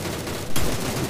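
Gunfire in the mobile battle royale PUBG New State, a dense noisy burst of shots with a sharper crack midway, loud and continuous throughout.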